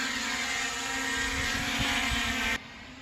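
A Holystone HS720E camera drone lifts off with a steady, loud propeller whine and motor hum that holds for a few seconds and then drops abruptly in level, with no talking over it.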